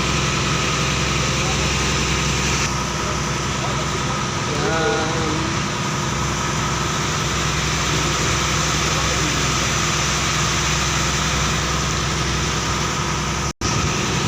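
A boat's steady, loud engine drones continuously at a constant pitch, a motor running without letup for the whole stretch.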